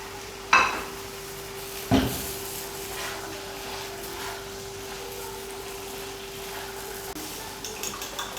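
Green chillies and coriander go into a frying pan for dhaba-style aloo anday ka salan and are stirred: two sharp clinks of a utensil against the pan, then a steady, faint sizzle with soft scraping.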